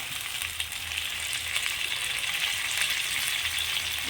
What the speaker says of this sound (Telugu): ఇప్పుడే వేసేసుకోవాలి పుదీనా కూడా అది కూడా ఫ్రై అవ్వాలన్నమాట